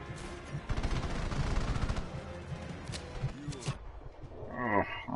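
Gunfire rattles in the open-world action game Just Cause 3, a rapid burst of automatic shots followed by scattered single reports, mixed with low bellowing game noises and fading toward the end.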